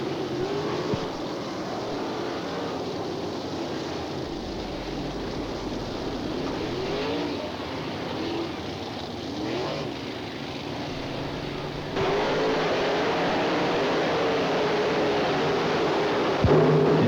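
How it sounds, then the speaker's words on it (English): Sprint cars race at Attica speedway in Ohio with a continuous, loud, rough engine roar that swells and fades as cars pass in the turns, growing louder near the end. "Turns 1 and 2, Kinzer and Kemena off the second corner."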